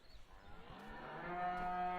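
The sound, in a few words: cows mooing on a farm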